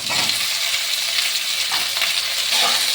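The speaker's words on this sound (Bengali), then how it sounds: "আর এইভাবে সব সব ফুলকপিগুলোকে আমি ভেজে নেব আর এবার দিয়ে দেবো কাটা পেঁয়াজগুলো আর এবার দিয়ে দেবো ক্যাপসিকামটা" Cauliflower florets with chopped onion and capsicum fry in hot oil, a steady dense sizzle broken by soft scraping of stirring, close and continuous with no voices.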